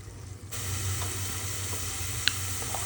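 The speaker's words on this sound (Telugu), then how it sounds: "2 బిగ్ టమాటోస్ ప్యూరీ చేసి నూనెలో విడిచేంత వరకు ఉడికించుకోవాలి." Tomato puree made from two big tomatoes frying in hot oil for a rajma gravy, a steady soft sizzle with faint stirring clicks, close and continuous with no talk.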